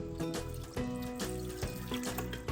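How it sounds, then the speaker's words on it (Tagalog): Water is poured into a pot of beef bulalo with sweet corn, giving a short, soft, continuous splashing and trickling sound heard alone. "Mag-add pa tayo ng konting tubig."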